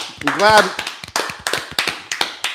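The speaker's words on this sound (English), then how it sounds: "Clap it up one time." A few sharp hand claps land one after another in a loose, spaced rhythm on a sports picks podcast, close and dry, with a brief voice sound near the start.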